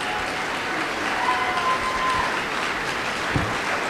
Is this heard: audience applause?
yes